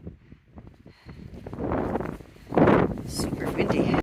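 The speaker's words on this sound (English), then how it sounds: "Super windy." Strong wind gusts buffet a microphone on a hiking trail of the Appalachian Trail, building from quiet into loud, sustained rumbling blasts with brief lulls, while people talk faintly in the background.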